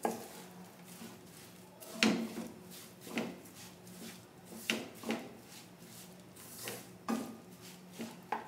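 Aval vilayichathu, a sweet flattened-rice mixture, being stirred in a pan with the flame off, with a spoon scraping and clinking against the metal in steady, repeated strokes, close and moderately quiet.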